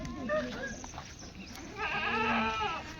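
Kathiyawadi goats and sheep loaded on a livestock truck, several bleats overlapping nearby, with faint voices in the background.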